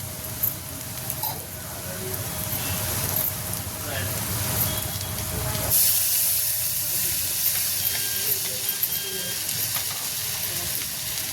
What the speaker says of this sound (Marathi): कांदा आपला आणि मिरची जरा बऱ्यापैकी भाजून झालेली आहे आता आपण त्यामध्ये टमाट टाकायचे